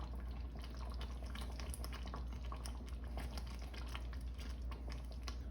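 Sweet and sour sauce thickened with a cornstarch slurry, bubbling in a pan as it thickens: a steady, dense stream of close popping and gurgling bubbles with no talk.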